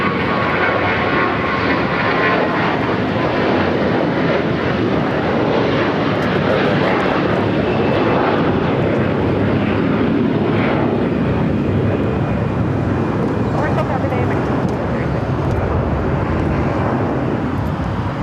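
Jet airliners roll along the taxiways at LAX, a loud, continuous broadband engine roar and whine that holds steady throughout with no voices.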